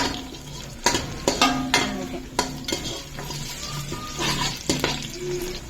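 Onions frying in a pan for Hyderabadi chicken dum biryani, a steady sizzle broken by repeated sharp scrapes and clinks of a spoon stirring against the pan, close and fairly loud with no talk.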